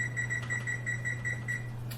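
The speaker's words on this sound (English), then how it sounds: "Let's put our timer for our cornbread on 20 minutes." Electronic kitchen timer being set while cornbread cooks, giving a quick series of short, evenly spaced high beeps over a steady low electrical hum, fairly close and with no talking.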